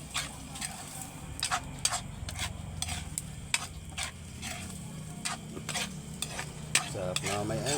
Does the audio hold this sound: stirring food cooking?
yes